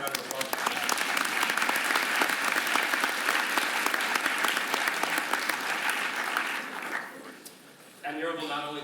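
Loud, sustained applause fills a hall during a startup pitch competition presentation by Neurable, dense clapping fading near the end before a voice begins speaking.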